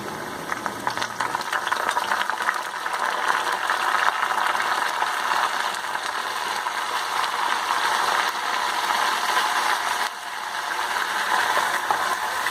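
Potato chunks fry with a spoonful of ginger garlic paste in a hot karahi for Afghani aloo karahi, giving a steady, dense sizzle that holds loud and unbroken throughout, with no voices.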